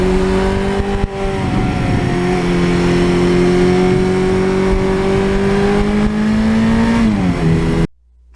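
A 1982 Suzuki GS1100E motorcycle engine revs loudly and steadily for about eight seconds, its pitch sagging slightly after a brief blip near the start and dropping near the end before cutting off.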